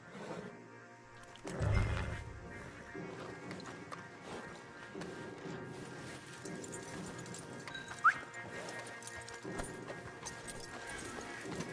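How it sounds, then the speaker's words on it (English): Horses in a Western video game, with clip-clop of hooves and an occasional whinny under a steady music and ambience bed, fairly close and continuous. "you're gonna tether him up to Javier's horse"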